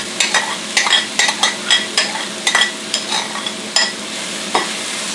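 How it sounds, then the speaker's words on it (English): Browned meat and sautéed pepper pieces for Spanish-style rice are stirred in a sizzling pan, with a quick series of sharp spoon scrapes and clacks over a constant frying hiss, close up. "Stir those up."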